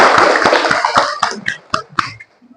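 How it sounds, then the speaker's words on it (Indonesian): Classroom applause for everyone, a loud flurry of hand claps that thins into several separate claps and then fades out, near and with no talk. "Tepuk tangan untuk semuanya"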